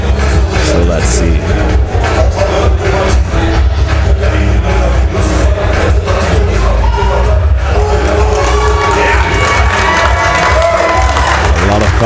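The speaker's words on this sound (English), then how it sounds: "A lot of clapping." At a Dutch national weightlifting championship, a crowd cheers, shouts and claps loudly and without pause after a lift, a continuous roar with scattered whoops.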